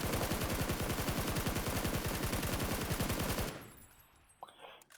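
A gun in PUBG fires full-auto in one long rapid stream of evenly spaced shots, loud and close, then stops abruptly and leaves a faint echoing tail.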